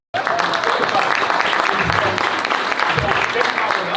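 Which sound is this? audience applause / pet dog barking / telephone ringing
audience applause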